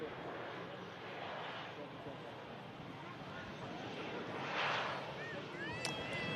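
A Ryanair airliner on an airport runway gives a steady, distant broadband roar of jet engine noise that swells briefly near the end, with wind over the microphone and no talking.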